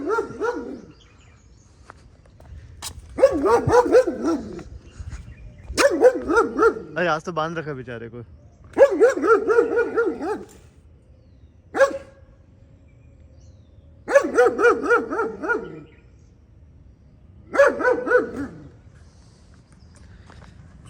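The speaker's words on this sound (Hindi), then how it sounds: "भाई वो जर्मन शेफर्ड दिख रहा है, बहुत भौंकता है।" A German Shepherd barks in several separate bursts spaced a few seconds apart, loud and fairly close, with someone speaking briefly in between.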